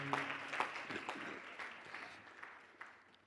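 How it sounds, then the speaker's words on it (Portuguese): Church congregation applauding after a prayer: soft, scattered clapping that starts with a few sharper claps and gradually thins and fades, fairly quiet and distant. "Aplauda ao Senhor Jesus"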